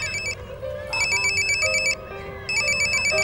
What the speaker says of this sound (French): Ulrich, ça fait un quart d'heure que j'essaye de te joindre. Désolé, je joue pas le portable à la main.